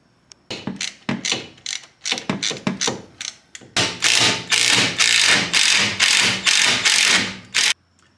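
Ratchet wrench turning a 14 mm deep-well socket on the lower perch of an EZKei sports coilover on a Honda Acty, sounding as loud, close clicking bursts that grow into longer continuous rapid ratcheting runs, with no talking.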